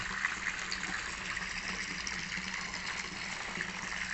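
Steady rushing of water pouring into a container, a continuous gush with a faint trickling edge, fairly close and unbroken throughout.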